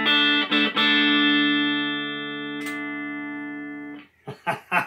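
An electric guitar played through a budget Vox amplifier rings out with a few loud, sustained notes that fade slowly, followed by brief spoken words near the end.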